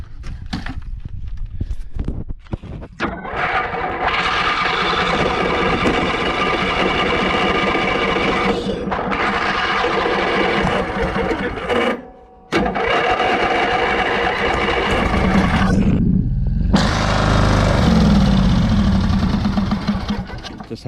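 An engine that has had clean gas poured straight into its intake cranks and tries to catch. A loud, fast, continuous mechanical chatter is broken by two brief pauses and runs on without settling into a clear idle.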